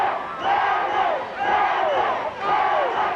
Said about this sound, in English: the Randwick crowd now are really giving it to them